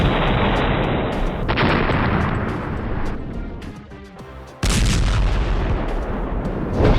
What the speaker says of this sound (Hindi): हमास के लड़ाके इजरायल के उस बुलडोजर को धमाके से उड़ा रहे हैं